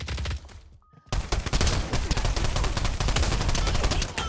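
Gunfire in a gun game match of a shooter video game. A brief drop to near silence gives way to loud, continuous rapid shooting with dense bursts of shots that keep going to the end.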